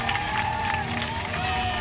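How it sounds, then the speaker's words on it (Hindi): Schoolgirls in Rewari clap and cheer as a strike ends, a dense, continuous burst of crowd applause and shouting with voices mixed in. "बच्चियों की तालियां और शोर के बीच ये अनशन टूट गया है।"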